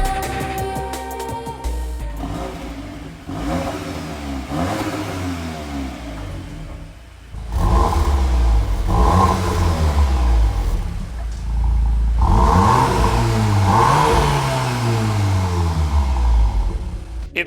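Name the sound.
MK8 Golf R revving with new Milltek exhaust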